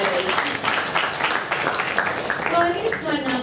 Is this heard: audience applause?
yes